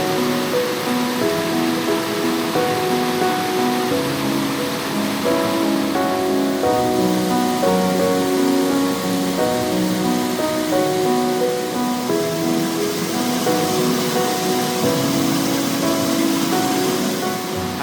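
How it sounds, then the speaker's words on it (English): Cedar Mill Falls, a small waterfall, pours in a steady, full rush of running water heard close up, continuous and unbroken with no voices over it. "I just love the sound of running water, whether that's a waterfall, a creek, a river"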